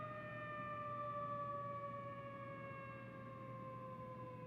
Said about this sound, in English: It sounds like those old air sirens that you would hear from like the older movies.